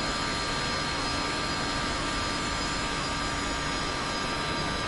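A jet airliner climbs after takeoff as a steady, dense engine roar with a broad hiss and a constant whine, loud and unbroken, with no talking.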